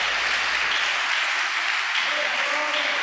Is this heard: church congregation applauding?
yes